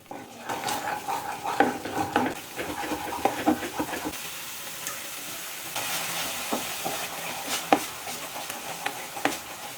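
A spoon stirs turmeric, chili powder and ground curry paste around a hot pan with a steady sizzle, broken by irregular scrapes and clinks against the metal, close and moderately loud.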